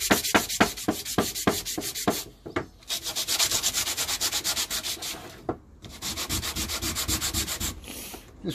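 Hand sanding a wooden key rack smooth, with quick rhythmic strokes at first, then longer steady rubbing passes broken by short pauses, loud and close.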